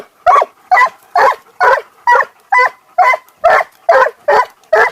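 Several dogs bark in a steady, rapid series of loud, close barks at an even rhythm while chasing a jackal, with no talking.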